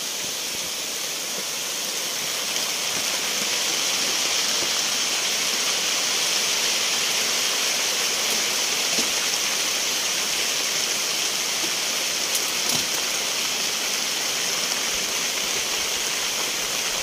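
Heavy rain falls in a montane forest during the rainy season, a dense, steady hiss that stays constant and loud throughout, with no voices.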